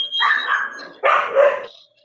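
A dog barks twice, close and loud, with a short gap between the two bursts and no talking over them.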